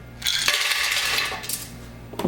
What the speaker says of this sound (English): add a little bit of ice into our blender